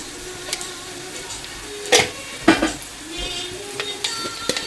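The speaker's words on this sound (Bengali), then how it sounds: "আর একটু ভালো করে ভেজে নেব" Prawn heads frying with eggplant in a pan make a steady low sizzle, broken by a few sharp clatters and scrapes of a spatula stirring against the metal.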